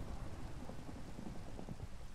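Rain falls in the Minecraft video game, a steady soft hiss of drops with low rumbling underneath, heard alone with no voices.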